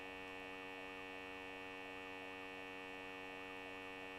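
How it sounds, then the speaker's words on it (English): Police sirens wail in the Need for Speed Most Wanted racing game, a continuous rising and falling electronic tone repeating about every half second over a steady game-engine drone, fairly quiet overall. "I can still hear the sirens going"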